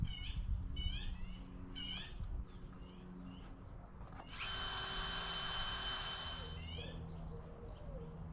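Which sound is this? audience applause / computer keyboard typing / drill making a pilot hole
drill making a pilot hole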